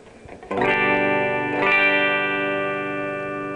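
Electric guitar chords through the bright channel of a Lenahan London Lead amplifier ring out loud and bright, a strummed chord at the start and another about a second later, sustaining clean with a sparkling top end.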